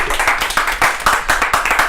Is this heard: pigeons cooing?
no